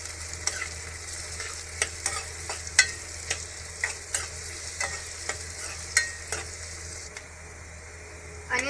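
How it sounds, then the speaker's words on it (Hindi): Onion sautés in hot oil in a pan, with a soft steady sizzle under repeated sharp scrapes and taps of a stirring spoon at an irregular rhythm, close and clear. "एक पैन में हम ऑयल गरम कर लेंगे, उसमें अनियन डालेंगे और इसको 2 to 3 मिनट्स के लिए सॉटे कर लेंगे।"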